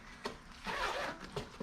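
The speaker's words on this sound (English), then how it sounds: "Right away, you get a nice little bag here that zips up." Zipper on the soft carry bag of a half-inch impact wrench, one quick faint zip pulled close to the microphone, with a soft rub or click just before and after.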